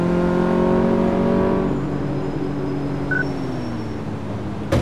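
A car from Car Mechanic Simulator 2014 drives around a test track, its engine holding a steady whining drone that dips in pitch as it slows, with a sharp burst at the end.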